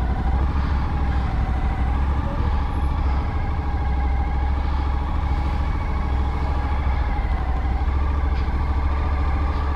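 Steady, loud motorcycle engine drone while riding along French roads on a multi-day touring trip, continuous and close with rushing wind and road noise throughout, no talking.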